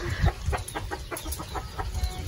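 A chicken clucks in a short, repeated run of soft calls at close range, with no talking over it.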